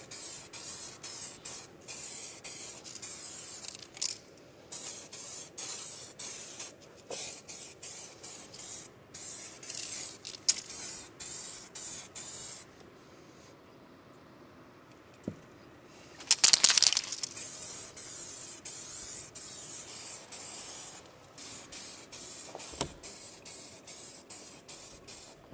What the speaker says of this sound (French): Donc là on va attaquer la deuxième couche.